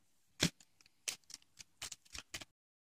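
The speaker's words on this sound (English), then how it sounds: "Shuffle the deck" A Pokémon card deck is shuffled in a handful of quick, crisp riffling bursts, close and fairly quiet, with brief pauses between them.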